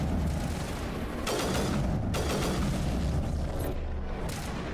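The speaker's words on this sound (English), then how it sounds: "there's a missile hit right from my face" Explosive missile impacts in the video game Mass Effect, a couple of heavy booming blasts with crackling gunfire bursts over a constant dense battle rumble, loud and close.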